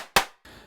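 A single sharp, dry rim-click sound from a Nord Drum 3P electronic drum pad, close and crisp, followed by a faint fading tail.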